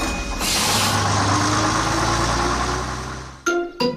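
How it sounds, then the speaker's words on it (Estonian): A cartoon bus engine rumbles steadily as the bus pulls away, with a brief airy hiss at the start, followed by two short sharp sounds at the end. "Buss hakkab liikuma."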